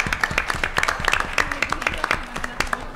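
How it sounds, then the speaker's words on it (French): Scattered, brisk clapping from a small audience rattles along in quick uneven bursts for a quiz show's contestants, close and lively, with voices mixing into the applause. "Bravo, on peut les applaudir."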